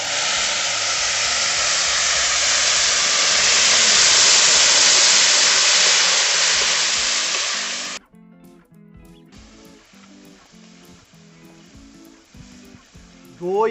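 Spice paste dropped into hot oil for a vegetarian cauliflower roast sizzles and splutters loudly for several seconds as a harsh, steady hiss, then abruptly dies down to a quieter crackle with light kitchen noises.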